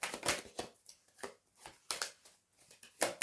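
Three tarot cards pulled from a deck, with close, crisp bursts of papery shuffling and flicking in short irregular clusters, fairly soft and with no voices.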